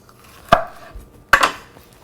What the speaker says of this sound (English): we'll just kind of chop this